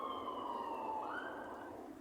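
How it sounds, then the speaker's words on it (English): A distant emergency siren wails faintly, its tone holding then rising, over a steady outdoor hiss. "Seems to be sirens everywhere today."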